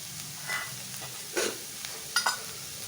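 Chicken and vegetable spring roll filling being tossed in a hot pan, with soft stirring scrapes and a faint sizzle punctuated by a few louder clattering tosses, no voices.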